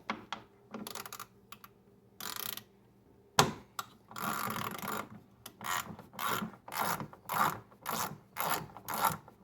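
Ratcheting and clanking of a wrench undoing half-inch bolts on a Whirlpool Duet front-load washer motor, repeated bursts of mechanical clicking with short pauses, close and fairly loud, no talking.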